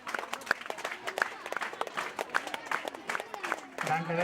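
A crowd claps in a loose scatter of sharp, uneven hand strikes, with voices talking and calling out over and around the applause.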